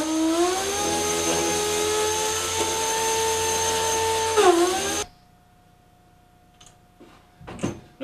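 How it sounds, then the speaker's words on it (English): Dual-action power sander on wood, a loud close steady whine and motor hum that dips slightly in pitch near the end, then cuts off abruptly, leaving a faint hum and a few light knocks. "So you try to hold a DA sander fairly flat to the surface as you work."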